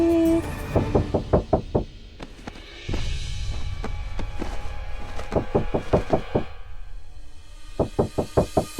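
Knocking on a door in bursts of quick, sharp raps, several separate rounds spaced apart, loud and close, with a low background hum between them.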